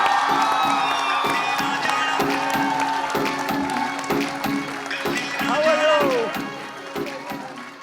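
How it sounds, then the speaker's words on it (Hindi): A large audience at a stage event cheers, whoops and claps to welcome film stars Arjun Kapoor and Parineeti Chopra, a loud, dense roar of crowd noise running throughout with some voices mixed in. "नमस्ते इंग्लैंड के दोनों स्टार अर्जुन कपूर और परिणीति चोपड़ा, जोरदार तालियों से स्वागत करिएगा।"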